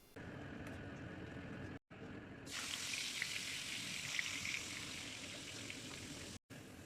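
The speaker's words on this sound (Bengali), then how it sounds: "এগুলোকে তুলে নিচ্ছি এবং এভাবেই সবগুলো ভেজে নিচ্ছি।" Potato chips frying in oil make a faint, bubbling sizzle that swells into a steadier, brighter crackle after a couple of seconds, broken by two short silent gaps.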